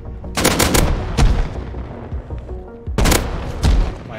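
AK rifle gunfire in the survival game Rust, two loud close bursts of rapid automatic shots separated by a pause, with a few single cracks and a low background rumble between them.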